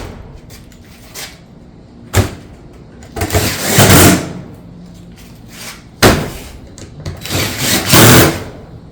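Fastening shake-style roof panels around a sandwiched pipe-vent jack, with two sharp impacts followed by bursts of driving noise, fairly close and loud with no talking.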